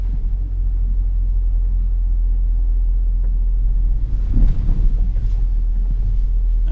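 Porsche Cayenne Turbo driving off-road, crossing a former military bridge with hill control engaged: a steady low engine and tyre rumble throughout, rising into a brief louder rattle of bumps near the end.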